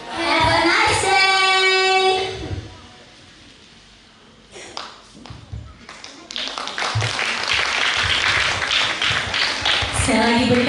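An audience at a primary school event in Sifalaete, Gunung, breaks into applause, starting as scattered claps and swelling into sustained clapping, preceded by a sustained tone and a quiet pause.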